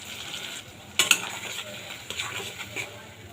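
A paste of ground mustard and poppy seeds sizzles in a hot pan, with a soft steady fry broken by a couple of sharp utensil clinks near the start and lighter scrapes of stirring afterward.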